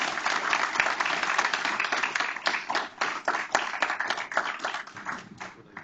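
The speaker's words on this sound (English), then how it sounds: "let's give our board a round of applause for their dedication" Sustained applause from the audience at a school board meeting, steady dense clapping throughout with no talking over it.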